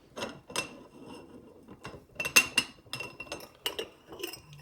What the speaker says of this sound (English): we'll go ahead and unscrew the glass globe and see what's inside.